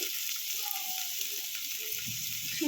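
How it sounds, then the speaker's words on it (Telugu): Onion pieces and green chillies frying in a little oil in a village-style kitchen, a steady, fairly faint hiss and sizzle with a few light stirring scrapes. "అన్నీ వేసుకోవాలి ఉల్లిపాయ ముక్కలు పచ్చిమిరపకాయలు ఈ రెండు అనేది ఫ్రై చేసుకోవాలి"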